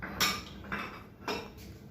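A spoon scrapes and clinks against a bowl while yogurt, spices and yellow food colour are mixed into a marinade, three or four short scraping strokes close by, with no talking.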